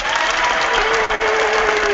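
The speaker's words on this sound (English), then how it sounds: "My applause to you." Steady, full clapping fills the room at a Stampin' Up! virtual workshop, holding near and even for a couple of seconds with one brief dip.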